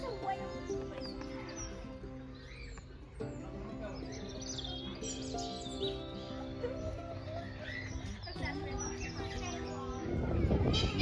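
Birds chirp and call at a caravan site at Bridlington, with small tweets scattered through a busy outdoor background and faint bleating sounds mixed in.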